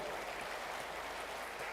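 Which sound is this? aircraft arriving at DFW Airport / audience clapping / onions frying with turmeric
audience clapping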